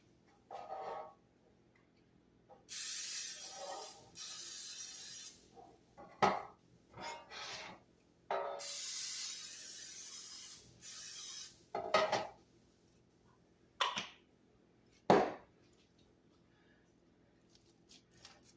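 Non-stick loaf pans getting coated with cooking spray, several short hissing bursts of aerosol spray in quick succession, close by, separated by quiet pauses and small clinks of the pans.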